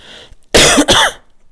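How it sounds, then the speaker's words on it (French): Two sharp, loud coughs in quick succession, close to the microphone, with no speech around them. "Pardonnez-moi si je tousse."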